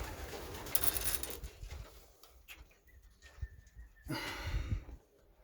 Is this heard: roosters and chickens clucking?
no